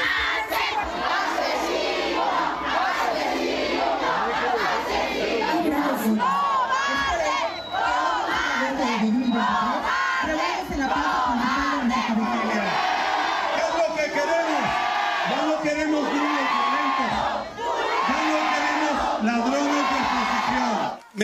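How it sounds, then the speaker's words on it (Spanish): Angry crowd in a town's main square jeering and shouting protests at a captured man accused of murder, a dense, loud wall of overlapping yells and boos sustained throughout, with voices bellowing on top. "lo recibieron con protestas, abucheos y reclamos en plena plaza principal del municipio"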